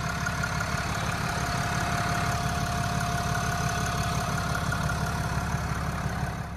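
A 6.7 liter inline-six Cummins turbo diesel in a 2022 Ram 2500 Laramie idles steadily, a dense low rumble with a faint whine above, loud and close with no talk.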